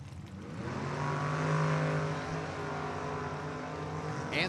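Drag racing cars launch hard at an ANRA Summer Nationals meet, a 6-cylinder altered and a Ford-powered altered, roaring loudly and steadily with a harsh engine drone that stays near and heavy throughout.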